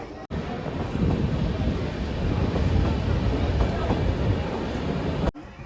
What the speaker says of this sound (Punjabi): ਪੰਜ ਤਖਤਾਂ ਤੋਂ ਟ੍ਰੇਨ ਜੀ ਦਰਸ਼ਨ ਕਰਕੇ ਆਈ ਹੈ ਪੰਜ ਤਖਤਾਂ ਦੇ